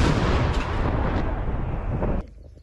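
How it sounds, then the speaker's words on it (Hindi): Russian howitzer artillery fire on Ukrainian positions: a loud sustained roar of blast and rumble filling the clip, then cutting off abruptly near the end to a quieter tail, heard close with no voices. "यूक्रेनी ठिकानों पर होवित्सर से हमला किया गया।"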